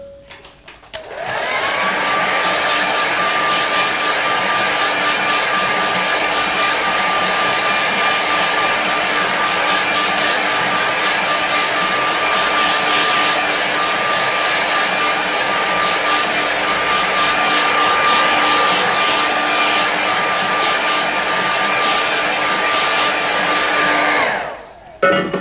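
A hair dryer blows steadily on a watercolour painting for about twenty-three seconds, a loud, constant whooshing roar with a thin tonal whine that starts and stops cleanly.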